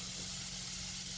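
A spray gun steadily hissing out metallic paint onto a lawnmower during a makeover, one continuous close airy spray with no break and no talking.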